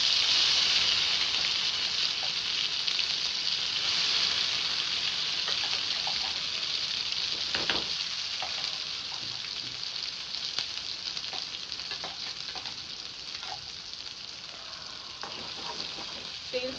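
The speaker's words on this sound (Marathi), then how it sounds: "तेल टाकलं तेलात आता जिरं टाकते" Cumin seeds sizzle steadily in hot oil in a home kitchen pan, a dense, even frying hiss that continues alone throughout with a few faint clicks and taps.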